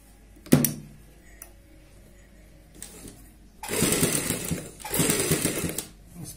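A sewing machine stitches piping onto a kurti neckline, with a few faint clicks first and then two short, loud bursts of rapid stitching close by.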